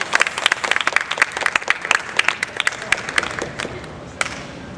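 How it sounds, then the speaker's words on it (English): Audience at an open-air improv show bursts into applause, dense overlapping clapping with sharp individual claps, fairly loud and close, sustained for the whole stretch with a brief late flare. "Give them a giant round of applause."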